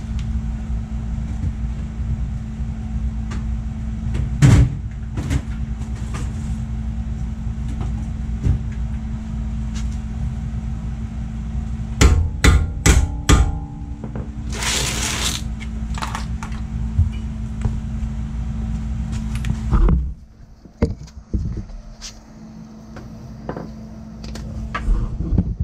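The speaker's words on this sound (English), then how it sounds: "So you put the bolt on backwards and then whack it with a hammer and try and get it up" A hammer whacking a loose tie rod end on a Volkswagen GLI: a few sharp metallic knocks, then a rapid cluster of blows, then a last couple of hits, all over a steady mechanical hum.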